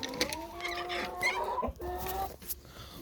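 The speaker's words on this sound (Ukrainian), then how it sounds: "Ось курочки і хочу вам показати" Chickens clucking close by, a few overlapping hens making short repeated calls, fairly loud with no talking.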